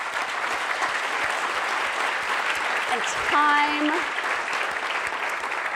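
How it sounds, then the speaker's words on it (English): A conference audience applauds its presenters in steady, dense clapping at the closing of a global design gathering, with a speaker's voice briefly rising over the applause midway. "I'd like to just give them a round of applause for all the hard work"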